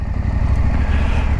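Husqvarna Norden 901 motorcycle engine running with a muffled, low rumbling drone, steady and fairly loud throughout with slight rhythmic pulsing.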